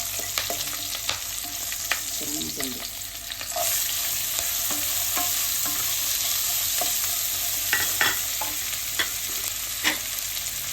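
Sliced onions sizzling in hot oil with curry leaves, garlic and green chilies, stirred with scattered scraping clicks of a spoon against the pan over a steady frying hiss.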